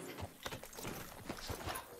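Horse hooves clip-clop in Red Dead Redemption 2, giving a quiet, irregular run of soft thuds at a walking pace with no voices over them.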